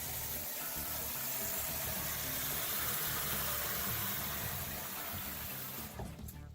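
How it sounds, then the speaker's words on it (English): Water pours steadily into a rock tumbler barrel holding quartz, a continuous rushing splash close by that carries on for several seconds before easing off at the end, with no voices. "I'm going to put some water in here."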